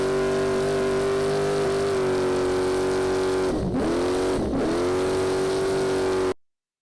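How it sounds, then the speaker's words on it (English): A Baja off-road race vehicle holds wide open throttle, its engine wailing at a high, steady pitch with a couple of brief dips as it shifts or lifts, loud and close, before cutting off abruptly. "a lot of wide open throttle here today"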